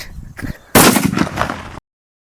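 A powerful Diwali country cracker goes off outdoors. A few small pops come first, then one loud, sharp blast with a ragged, crackling tail that ends abruptly in silence.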